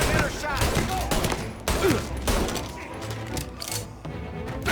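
Gunfire in a shootout with police in Mafia: Definitive Edition, a loud dense fusillade of overlapping shots, cracks and impacts running throughout the scene.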